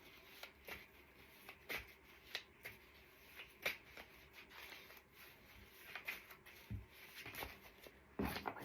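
Tarot cards being shuffled and laid out during a chakra tarot reading, with soft repeated rubbing and brief card flicks and taps spread across the quiet room.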